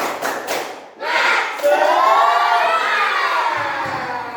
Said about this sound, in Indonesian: kita tepuk semangat terlebih dahulu. Yuk, tepuk semangat! Semangat!